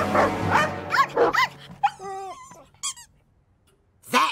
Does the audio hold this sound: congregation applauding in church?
no